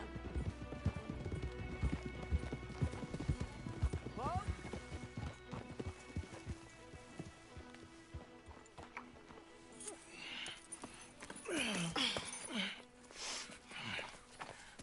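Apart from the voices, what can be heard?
horse hooves clip-clopping in video game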